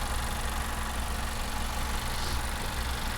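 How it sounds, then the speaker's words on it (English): A 2016 Honda CR-V EX-L with a naturally aspirated four-cylinder idles steadily, a smooth, even hum with constant level and no revving, heard close with no talk. "the engine sounds great, idles very smooth, sounds very healthy"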